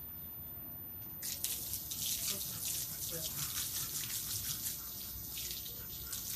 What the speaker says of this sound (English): A little shower, babes. A little shower.